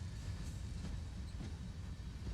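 A passenger train on the Northeast Corridor near New York in Train Sim World rolls along slowly at about 9 mph, giving a steady low rumble with faint rail clatter and no voices.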